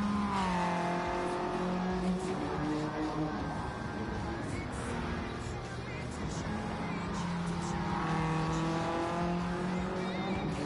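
A race car engine in the Gran Turismo 7 video game revs and shifts through repeated rising gear sweeps, a steady, fairly quiet drone throughout.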